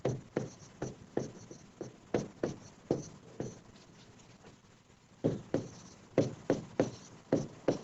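Chalk or a marker taps and scratches across a board during a science class, short rhythmic strokes in quick runs with a brief pause midway, close and fairly quiet with no talk over it.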